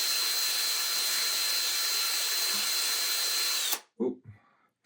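Yarn winding onto a weaving bobbin on a motorized winder, a steady high whirring hum held close for several seconds, then cut off and followed by a few soft clicks and handling thumps.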